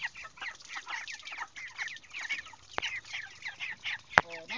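Young broiler chickens, about three weeks old, crowded in a coop on a hot day, clucking and peeping continuously up close in an overlapping chorus, with one sharp clank near the end.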